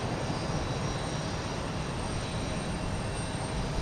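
A Spirit Airlines airplane passes at Houston Intercontinental airport, its steady broadband engine roar loud and constant throughout with no voices over it.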